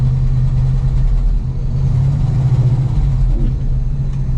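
An old Ford grain truck engine runs steadily after a cold start, a loud, continuous low rumble with a slightly uneven idle that swells a little mid-way, close by and with no talking.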